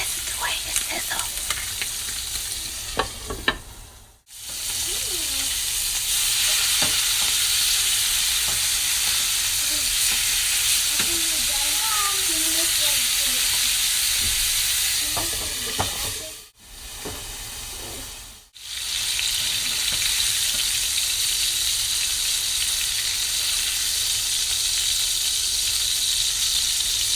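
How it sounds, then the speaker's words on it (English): Buttered tri-tip steak sizzles loudly and continuously in a hot pan, a dense, hissing fry broken by a few brief dropouts, with no voices. "Oh, listen to the way it sizzles."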